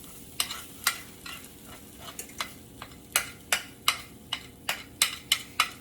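Eggs cook in a hot frying pan: a faint sizzle runs under a series of sharp utensil taps and scrapes against the pan, about a dozen irregular clicks, close and fairly quiet.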